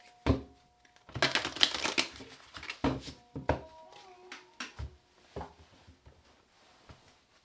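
Tarot cards being shuffled by hand in close, crisp bursts of riffling and slapping, with a few softer taps and pauses between, and no talking.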